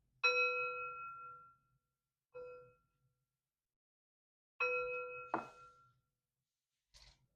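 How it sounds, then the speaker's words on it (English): Three bright metallic chimes ring out one after another with pauses between, each decaying slowly, the last followed by a faint clink. "3 chimes to bring in positive energy"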